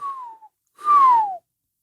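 A person whistling inwards produces two clear, close tones that slide downward, a short one and then a louder, longer one, with no talking.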